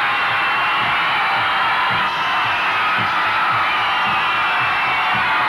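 A large crowd of Penápolis supporters cheers, whoops and yells loudly and continuously at a city-versus-city contest, a dense sustained roar with scattered shouts and no pauses.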